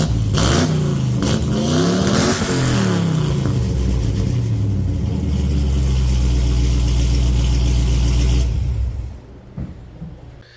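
A Ford F100 truck engine with short eBay shorty headers revs hard and holds at high pitch for several seconds, loud and close, then cuts off abruptly near the end.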